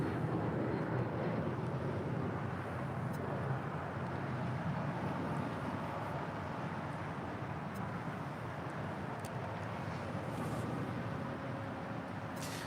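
Steady, loud roar of an airliner departing at LAX, a broad continuous rumble that holds at nearly constant level for the whole stretch with no voices over it.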